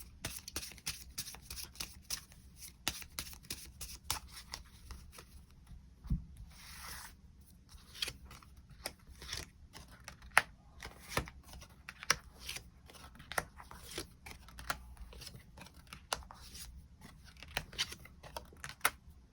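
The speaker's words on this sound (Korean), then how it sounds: "그럼 8번 분들 추가 카드로 월요일부터 일요일까지 어떤 하루를 보내게 될지 추가 카드 뽑아보도록 하겠습니다." Tarot cards handled during a reading, with quick papery riffles, flicks and taps as cards are shuffled and drawn, close and quiet in bursts with short pauses between.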